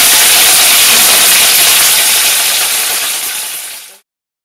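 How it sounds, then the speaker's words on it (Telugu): Curry leaves dropped into hot oil in a frying pan give a loud, broad, steady sizzle and hiss that fades out over about four seconds, with no voices. "ఫ్రైంగ్ ప్యాన్లో తగినంత నూనె వేసి కరివేపాకు వేయాలి."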